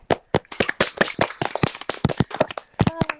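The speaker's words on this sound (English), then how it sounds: "applause for these guys right here." A small group claps by hand during a live-streamed podcast, sparse, distinct individual claps in an irregular patter close to the microphone, with no talking.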